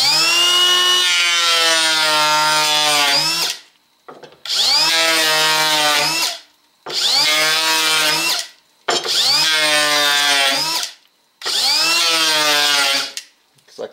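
Makita XPK01Z 18V LXT cordless 3-1/4-inch planer shaving wood in five loud, steady passes with a high whine, each lasting about two to three seconds and separated by short gaps, with no talk.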